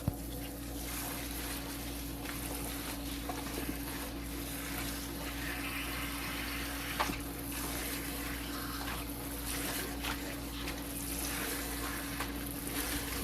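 Green vegetables being washed in water, with steady running and splashing that continues evenly throughout, close up and alone.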